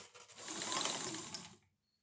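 A sewing machine runs in a brief, quiet burst of mechanical whirring and clicking while it zigzag stitches fabric for a baby sling, then cuts off into silence.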